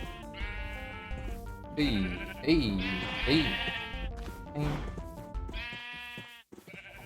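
Several sheep bleat in quick succession in a video game, loud and close, with a voice calling out briefly between them.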